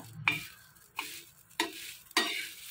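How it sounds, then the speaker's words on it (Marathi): Food roasting on a hot tava (griddle), heard as four short scraping stir strokes spaced about half a second apart over a low, steady sizzle, close and fairly quiet. "आणि मग तव्यावर टाकला मी भाजायला,"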